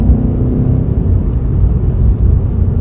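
A BMW M5 Competition on a driving tour gives a loud, close, low engine rumble that holds steady for a few seconds.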